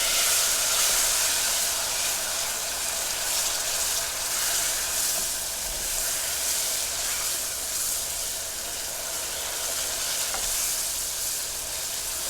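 A whole stick of butter melts into bubbling caramel in a pan, making a continuous loud hiss and sizzle with faint stirring underneath and no voices.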